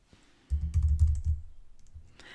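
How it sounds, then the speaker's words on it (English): A short burst of computer keyboard typing, a quick cluster of close, soft keystrokes lasting about a second before fading into quiet. "go into add metric and start typing engagement"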